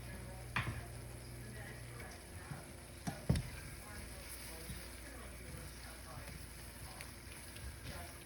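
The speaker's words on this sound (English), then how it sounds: "Again, just letting that simmer." Chicken noodle soup simmers in a pot with a soft, continuous sizzling bubble, broken by a few clanks and knocks from utensils. The sound stays fairly quiet throughout.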